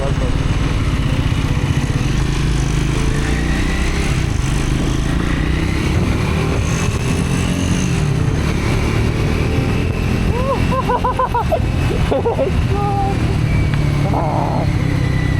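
A Triumph motorcycle engine drones steadily and loudly throughout the ride, with wind rush over the rumble and brief talk from the rider near the end.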